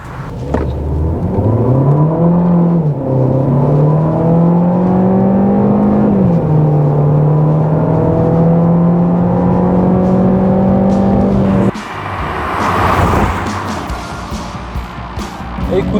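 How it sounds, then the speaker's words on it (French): A 2024 Cupra Leon eTSI 150 in sport mode accelerates hard, its engine note climbing steadily through the gears with a brief dip at a shift, loud and close from inside, before settling abruptly into a quieter cruise. "Allez, on va faire une petite accélération et on va se mettre en mode sport."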